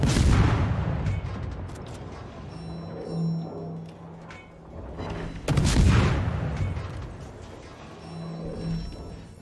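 Warship gunfire in a naval video game featuring the German destroyer ZF-6, deep booming salvos at about one and five seconds, heavy rumbling and roar between them, with a low engine drone running steadily underneath.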